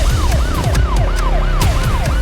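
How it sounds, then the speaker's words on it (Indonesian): A police siren wails, sweeping up and down in repeated cycles, loud and close, over a steady low vehicle rumble during a night highway chase. "Suara sirene memecah malam."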